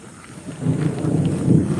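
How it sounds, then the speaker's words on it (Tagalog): Low rumbling thunder rolls under steady rain, building in loudness toward the end of the short stretch, close and heavy with no voices. "Sumabay po yung ulan."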